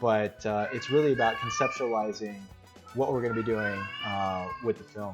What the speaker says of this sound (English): if you can hear my cat in the background is also chiming in on the story detail